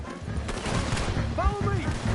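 Dense, steady gunfire from a shootout in Red Dead Redemption 2 rattles on throughout, mixed with brief whistling chirps and some background voices.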